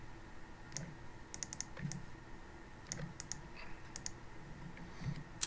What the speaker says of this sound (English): I'm using control button and left click and drag.